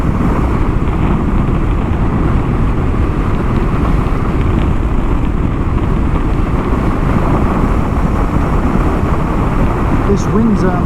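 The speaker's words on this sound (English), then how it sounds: "that wind is pretty bad again today, which is unfortunate" Strong wind buffets a rider on a Kawasaki KLR-650 along the outback Birdsville Track, a dense, steady roar of gusting air and engine rumble filling the whole stretch without letup.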